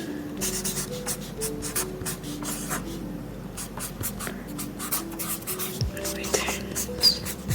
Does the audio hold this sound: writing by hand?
yes